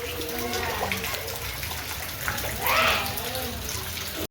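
Heavy storm rain pours down in a constant broadband hiss, with a person talking over the downpour and a brief surge partway through.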